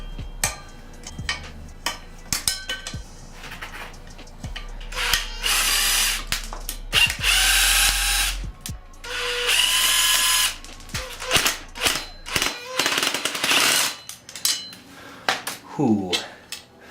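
A power tool whirs in bursts while removing the rear sprocket bolts on a 2008 Honda CRF450R, loud close runs of spinning and rattling, with clinks of metal parts between them.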